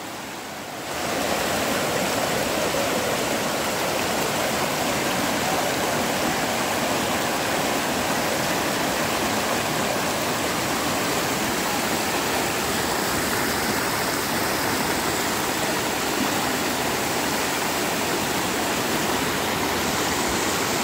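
A river with murky water flows steadily at a cold bathing spot, a constant loud rushing wash that starts after a second and continues unbroken, with no voices.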